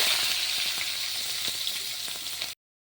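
Chopped onion hits hot oil with cardamom, cinnamon and a dried chilli for a village-style chicken dish, giving a loud, even sizzle that stops abruptly near the end.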